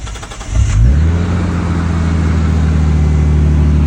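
A Nissan R33 Skyline with its catalytic converter removed cold starts, cranking briefly, then catching and roaring into a loud, steady idle that keeps rumbling without letup.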